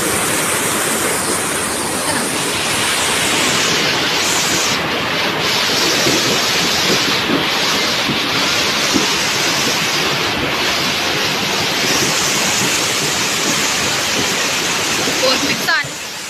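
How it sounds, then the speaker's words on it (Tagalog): Loud, unbroken rush of floodwater pouring along a road in Baggao, Cagayan, during Typhoon Crising, a dense roaring torrent close by, steady throughout with slight swells and a brief dip at the end. "Sa barangay Hacienda Intal sa bayan ng Baggao, rumagasa ang baha sa kalsada."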